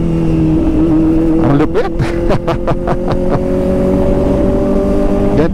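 A Kawasaki ZX-4RR motorcycle engine revs loud and close, with quick-shifter auto-blip gear changes cutting in as a rapid series of sharp blips over the high-pitched inline-four whine, and someone speaks briefly over it.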